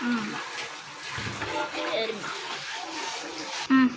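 Running tap water pours steadily as items are rinsed at a kitchen sink during cooking, a soft continuous splashing hiss with a voice speaking over it.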